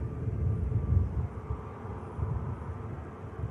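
A Brussels Airlines jet in Tintin comics livery taxis past at Manchester Airport, its engines producing a steady, muffled low rumble at moderate distance with no voices.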